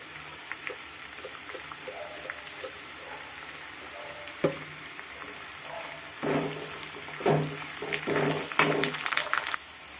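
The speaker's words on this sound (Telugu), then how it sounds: "గోల్డెన్ కలర్లో వచ్చేలాగే వేయించుకుందాం కరివేపాకు కూడా వేసుకుందాం" Curry leaves frying until golden in oil for Andhra-style tomato pickle: a steady crackling sizzle with stirring, growing louder and busier toward the end, close and with no talk.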